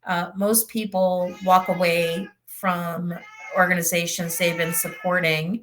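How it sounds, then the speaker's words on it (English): A pet cat meows several times at close range, mixed in with a person talking steadily. "Sorry about my cat."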